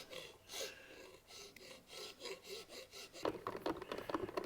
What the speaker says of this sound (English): we're just going to have to get the old trusty file out, dress that down a little bit there